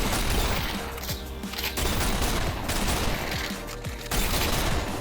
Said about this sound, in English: you start to get a feel for where like the guns are going to shoot